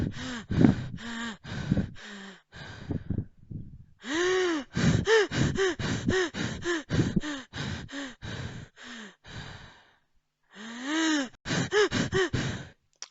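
A voice imitates Cheyne-Stokes breathing at high altitude: waves of loud, rapid, gasping breaths that build and fade, separated by silent pauses.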